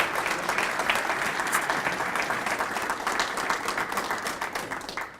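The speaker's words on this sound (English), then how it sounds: "Hold your applause, because Ed's not the Good Scout yet." Sustained audience applause at a Good Scout award breakfast, with distinct individual claps in a full room, loud at first and then gradually thinning and fading toward the end.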